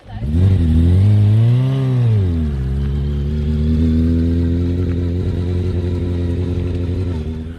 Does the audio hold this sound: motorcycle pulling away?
yes